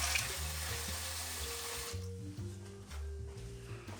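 Cold tap water runs from a faucet into a bowl of chopped scallions, a strong hissing stream that cuts off partway and is followed by softer trickling and dripping.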